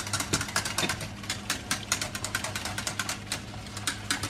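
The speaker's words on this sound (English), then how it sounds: "I want you to keep it going, don't stop whisking." Wire whisk beating a custard as it thickens in a pot, giving a fast, steady run of close clicking and scraping strokes at the pot's base over a low hum.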